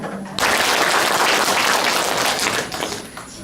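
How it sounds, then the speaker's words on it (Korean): An audience at a Lunar New Year rice-cake soup sharing event for elders breaks into dense, loud applause to welcome a community centre's guitar club, the clapping sustained and fairly even before easing slightly near the end. "큰 박수로 기타의 놀자팀을 맞이해 주시기 바랍니다."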